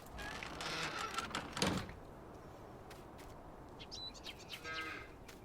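Cattle in Farming Simulator 19 low and moo in a moderate, close pasture, with a loud moo near the middle, a door-like clunk and scattered livestock noises through the rest.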